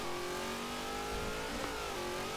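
Race cars in Forza Horizon 3 revving close behind, a steady mid-pitched engine drone with rising harmonic tones and a brief surge partway through, fairly quiet and without talk.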